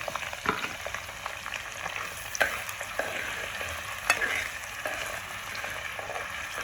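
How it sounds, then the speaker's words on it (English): Onions sizzle in a hot frying pan while a spoon scrapes and stirs them, giving a steady crackling hiss with occasional sharper clicks and knocks, close and moderate in volume, no talking. "after putting this, I'm going to put in my onions"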